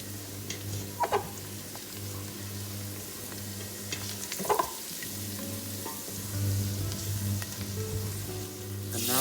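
Beans with cayenne pepper and spices sizzle steadily in a hot pan, a continuous close frying hiss with occasional stirring scrapes and clicks, no talking.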